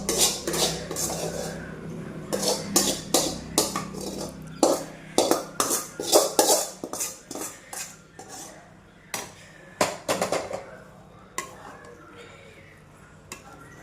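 A spoon clanking and scraping rhythmically against a metal pan while a semiya vermicelli dish is mixed, with bursts of sharp, close taps that thin out toward the end.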